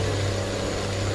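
A Kenworth W900 truck engine in American Truck Simulator drones steadily at close range, a continuous low rumble with a strong low hum that holds even throughout, with no talk over it.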